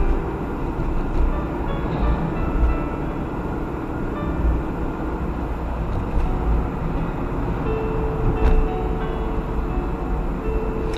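Very large truck rumbling past on a road like a passing train, a heavy sustained low roar with a faint tonal whine joining near the end, steady and fairly close, no talking.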